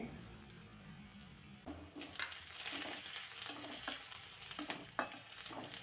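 Crushed ginger and garlic fry in a hot pan for a dhaba-style vegetable dish, a steady close sizzle broken by scraping stirs, growing busier after the first two seconds.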